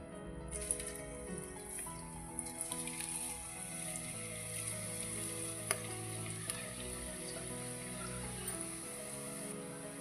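Chakli sizzles in a pan of hot oil with a soft, even bubbling hiss close by. Faint clicks and low background hum come and go.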